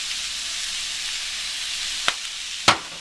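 Sesame oil sizzling over low heat in a pan of mangoes, a steady soft frying hiss with two sharp louder crackles near the end.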